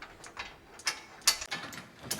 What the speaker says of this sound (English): Then you take your M 10 by 25 millimeter bolts and you just go ahead and run those on in.